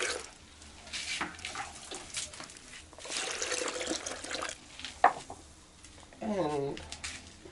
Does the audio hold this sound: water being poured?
yes